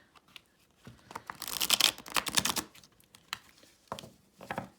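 Quiet papery riffling and flicking as a new tarot deck is shuffled, card edges ruffling together in a burst with scattered light taps and snaps before and after.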